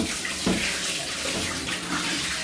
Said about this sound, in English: So we'll rinse it with cold water to cool off, like that.